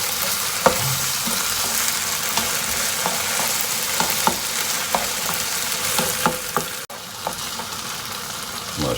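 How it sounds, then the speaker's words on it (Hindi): Vegetables for an Afghani breakfast fry in a pan, a constant bright sizzle broken by repeated scraping knocks of stirring and one abrupt clack, with no voices. "अब इसे 4 से 5 मिनट के लिए भूनेंगे।"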